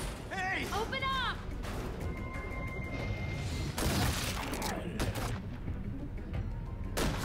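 Gunfire from a video game firefight at a gate, with bursts of shots and heavy booms scattered through the whole stretch beneath shouting voices and game noise.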